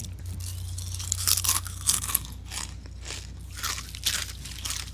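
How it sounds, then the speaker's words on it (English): Someone crunches and chews potato chips up close, with repeated crisp bites and mouth sounds over a steady low hum, no talking. "Don't mind the crunching. I am just eating chips."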